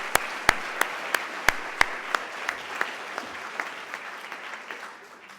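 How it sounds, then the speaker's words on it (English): An audience at an essay prize ceremony applauds the winners of the inaugural Gordon Parks Foundation Essay Prize, opening with a few sharp, distinct claps that thicken into even, sustained applause before fading gradually. "I would just love to give one more round of applause for all of our winners"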